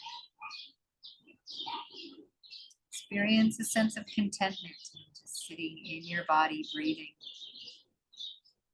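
Birds chirp outdoors in short high tweets and calls, scattered through the passage and fairly close, running under and between a calm spoken voice.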